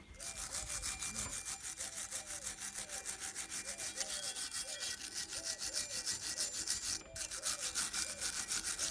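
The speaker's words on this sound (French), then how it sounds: "l'idéal c'est de terminer et assurer la finition avec la brosse métallique" A wire brush scrubs metal parts for a finishing pass during renovation, a fairly faint, steady rhythmic rasping of quick back-and-forth strokes, with no voices.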